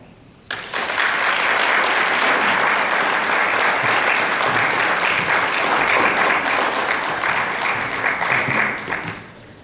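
A lecture hall audience bursts into sustained applause to welcome speaker Sarah Pike, loud and steady clapping for about nine seconds before tapering off.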